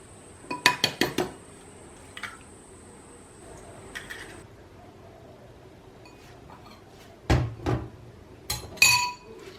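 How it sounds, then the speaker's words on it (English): Eggs cracked one after another against a container's rim and tipped into a bowl, giving sharp clustered clinks and taps with quiet gaps between them, close and clear. "I'm actually going to crack my eggs into here and then I will transfer them into the bowl"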